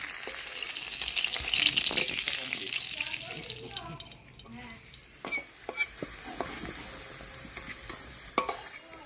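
Ingredients for vegetarian khichuri sizzle and crackle as they are stirred and lightly fried in a mud-coated pot over a wood fire, with scraping stirs and splashes of water up close.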